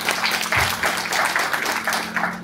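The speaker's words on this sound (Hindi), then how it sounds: "जोरदार तालियां दोस्तों।" Audience applause at a book launch, a steady wash of clapping from a crowd filling the whole stretch with a low hum underneath, moderately loud and continuous.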